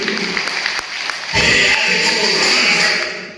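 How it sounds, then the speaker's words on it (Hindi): Audience at a speech event in Udaipurwati breaking into loud applause, a dense sustained clapping that swells midway and stays strong to the end. "आप लोगों के लिए एक बार जोरदार तालियां होंगे आप सभी के लिए"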